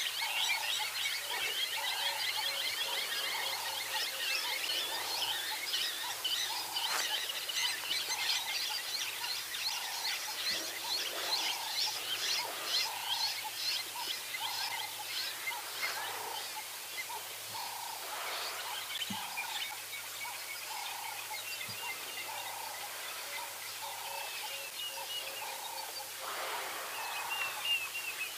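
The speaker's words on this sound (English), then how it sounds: "There's a Diedrich cuckoo calling behind us." A Diederik cuckoo's repeated whistled calls ring out at a steady rhythm over a quiet outdoor backdrop at a dam, with other faint bird chatter and a low hum underneath.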